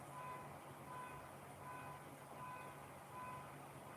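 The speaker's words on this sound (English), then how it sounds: "His truck alarm's going off." A pickup truck's alarm going off out in the country, heard faintly from a distance as a steady repeating electronic beep over a low background hum.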